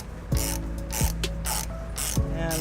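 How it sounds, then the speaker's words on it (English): An 18mm socket on a ratchet tightens a trailer hitch bolt on a 2006 Toyota RAV4, with three close bursts of rapid metallic clicking over a steady background hum and no talk. "I'm going to go ahead and take a 18mm socket. And I'm just going to go ahead and ratchet it up."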